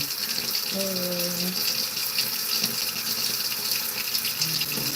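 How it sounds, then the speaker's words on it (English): Water runs steadily from a tap while a leg is washed off, a constant close hiss and splash that fills the whole stretch, with a brief voice-like tone and faint background sounds beneath it. "let me wash off my other leg"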